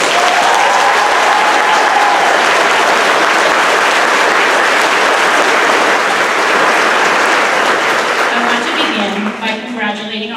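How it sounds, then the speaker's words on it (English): A big round of audience applause greets an 8th grade graduating class of 2022 at the ceremony, loud and continuous, tapering near the end as a voice begins speaking over it. "let's begin this celebration by giving our 8th grade class of 2022 a big round of applause."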